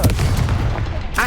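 In Hogwarts Legacy, a Confringo spell goes off as a short, heavy explosive blast with a booming low thud that quickly fades.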